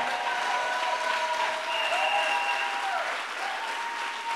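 A church congregation breaks into sustained applause in acclaim of the Lord, a dense, steady clatter of many hands filling the room for the whole stretch, with faint tonal sounds drifting above it.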